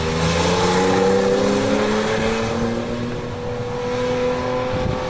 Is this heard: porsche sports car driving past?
yes